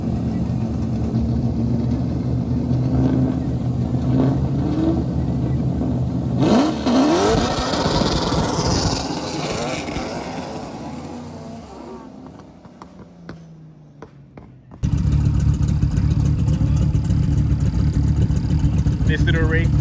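An SR20-powered rear-engine car idles, then revs sharply and winds down before settling into a loud steady idle again, with people talking over it.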